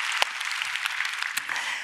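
A church congregation claps in praise during a worship service, a steady, moderately distant wash of applause with a couple of sharper close claps standing out, continuing evenly without talk.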